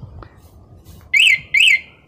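An Autofy anti-theft alarm buzzer on a bike or scooter beeps twice as the unlock signal, two loud, shrill electronic chirps about half a second each, close by, separated by a brief pause after a quiet stretch.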